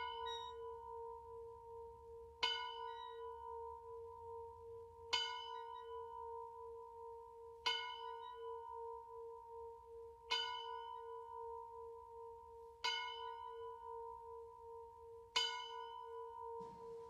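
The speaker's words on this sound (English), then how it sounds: "the church bell being rung." A church bell tolls slowly and evenly, six or seven strikes about two and a half seconds apart, each ringing out with a long humming decay.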